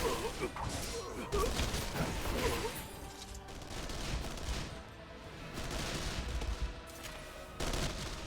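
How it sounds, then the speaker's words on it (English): Gunfire in the video game Final Fantasy XIV Shadowbringers, sustained volleys and bursts of shots mixed with crashes and whooshes, continuous at moderate loudness for several seconds. "Are they firing on civilians?"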